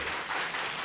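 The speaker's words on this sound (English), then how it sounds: "Please hold your applause." Audience applause at a planning commission meeting, a steady dense wash of many hands clapping at once, filling the room without a break.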